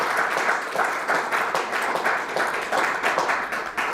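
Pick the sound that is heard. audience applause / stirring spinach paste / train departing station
audience applause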